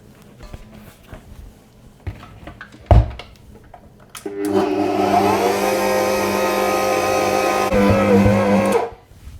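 Stand mixer kneading saffron bun dough, a steady mid-pitched motor whir starting a few seconds in and running loud and continuous until it cuts off near the end, after quieter handling noises and a sharp knock.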